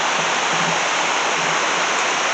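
A river flowing toward falls on a morning walk, heard as a dense, steady rush of water, loud and close, with no breaks and no voices.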